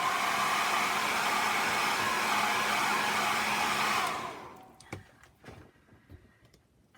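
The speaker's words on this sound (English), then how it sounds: "I have a hairdryer." A hair dryer blows on a watercolour painting with a loud, steady whooshing hum for about four seconds and then switches off, leaving faint clicks and light handling noises.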